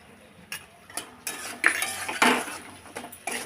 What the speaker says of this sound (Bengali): এবার সব দিয়ে একটু কষিয়ে নিচ্ছি।